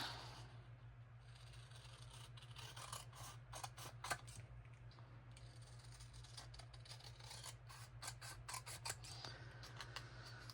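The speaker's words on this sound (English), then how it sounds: "I need big scissors here." Repeated snips and rasps of large scissors cutting through paper, close and crisp, over a steady low hum.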